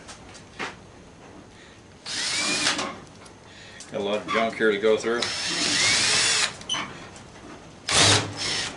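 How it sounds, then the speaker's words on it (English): A power drill on a shop workbench whirs in several short bursts, loud and close, between stretches of someone talking. "I'm going to use the drill on this"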